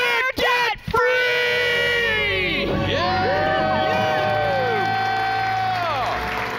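A live crowd at a personal-finance event screams and cheers loudly after a countdown, a dense sustained roar of many voices with whoops and shouts that fills the whole stretch, briefly dipping near the start.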